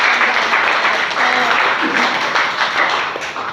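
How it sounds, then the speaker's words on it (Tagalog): A congregation clapping loudly, a thick, continuous burst of applause with voices faintly mixed in, tapering slightly toward the end. "Yan na po ba yung best na palakpak nyo para sa Panginoon?"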